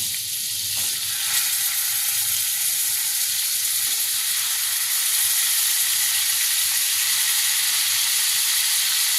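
Chicken pieces fry in melted butter for a Bengali-style butter masala, giving a steady, dense sizzle with a constant hiss that holds evenly throughout, close up and with no voices.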